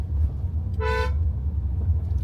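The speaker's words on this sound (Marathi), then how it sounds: "हॉर्न देऊ दे ना" A single car horn honks for about a quarter second, loud and close, over a steady low engine rumble.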